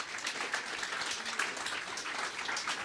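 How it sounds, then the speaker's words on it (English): Audience applause at a network operators' meeting hosted at Facebook, a dense, steady patter of many hands clapping at moderate, fairly even loudness with no voices over it. "Can we get a quick round of applause for please."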